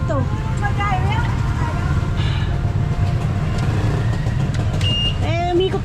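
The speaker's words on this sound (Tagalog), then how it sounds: "umikot lang naman yung tricycle eh" A motorized tricycle running on a street, a loud, steady engine rumble mixed with traffic noise, while people talk over it throughout.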